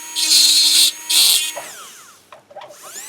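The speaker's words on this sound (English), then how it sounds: "I'm going to just use my grind burr on the top part of my cylinders" Dental handpiece spinning a grind burr against the top of denture cylinders during an All-on-4 benchtop conversion: two sustained high-pitched whining bursts close up, followed by fainter scraping and small clicks.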